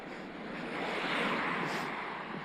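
Headwind rushing past a cyclist riding downhill, a steady broadband roar of wind buffeting the microphone that swells slightly midway and stays loud throughout.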